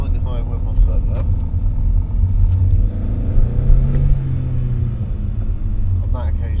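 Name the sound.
car accelerating hard from junction, driving lesson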